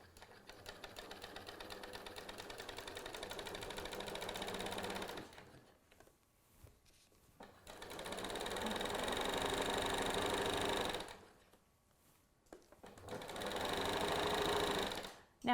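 A sewing machine stitches a lapped zipper, running in three steady bursts with two short pauses between them where pins are pulled, the motor whirring close and loud.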